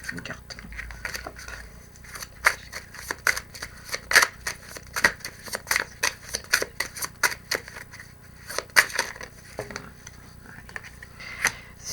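Tarot cards being shuffled and drawn at close range, a run of crisp flicks, snaps and papery scrapes in quick irregular succession, with a voice talking quietly underneath.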